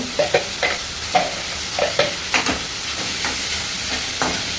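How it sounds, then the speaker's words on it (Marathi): Chopped onion, tomato and green chili sizzle in a hot pan, a steady hiss broken by a series of distinct scraping stirs at irregular intervals. "आता याला छान आपण फ्राय होऊन देऊया।"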